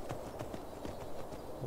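Hooves clip-clop at a steady walking rhythm on a horse in a Skyrim-based fantasy game, moderately near over a soft ambient bed, with a faint voice under it.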